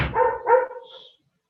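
A dog barks twice in quick succession indoors during a university physics lecture, fairly close and clear, with the second bark trailing off into a short fading whine.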